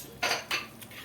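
A metal lid set onto a pressure cooker holding a guar bean vegetable: two close, bright metallic clanks about a quarter second apart, then a faint lighter tap, with no voices.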